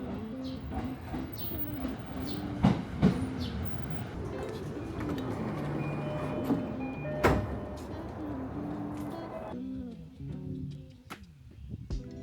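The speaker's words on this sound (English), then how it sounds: "it sounds like my train is already coming" A train rumbles in at a station in Tokyo amid steady crowd murmur and ambient noise, with a few sharp clanks and a bright squeal, then fades near the end.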